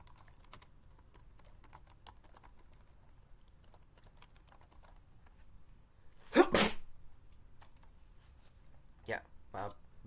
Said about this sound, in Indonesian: ya maaf bersin